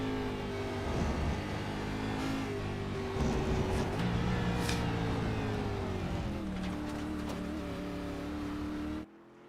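NASCAR stock car engine in the iRacing sim at Circuit of the Americas, droning loud and steady with rising harmonic sweeps as it revs, drops pitch on upshifts, and climbs again before cutting off abruptly near the end.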